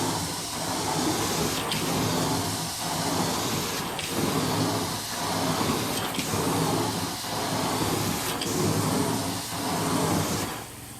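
Carpet cleaning wand drawn across carpet in steady extraction strokes, a loud continuous hissing suction with rhythmic surges roughly every two seconds as each forward and back pass repeats, the trigger released for dry strokes at the ends.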